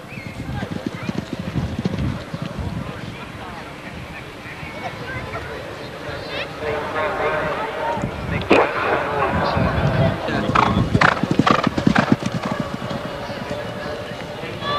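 Racehorses gallop on the 1.5 mile oval racetrack at Hereford, a rapid drumming of hooves that grows louder and closer toward the end, mixed with crowd noise and some voices.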